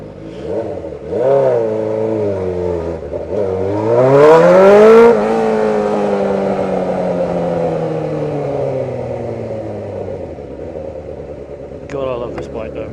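A motorcycle engine revs while the bike is ridden, its pitch climbing steeply and then sliding down in long sweeps. The engine sound is loud and close throughout.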